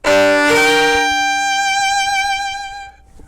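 A bowed string instrument sounds a rich chord with a shaped bow stroke, a bright strong attack easing into a sustained tone with gentle vibrato that fades near the end, close and alone.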